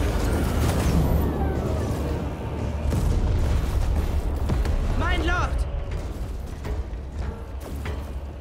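Deep booming explosions rumble through a dense, continuous trench-battle din in Space Marine 2, with a voice talking over the noise.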